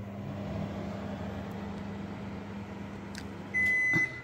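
A microwave oven heating anchovies without oil hums in a steady low drone for several seconds, then gives a short, clear electronic beep near the end.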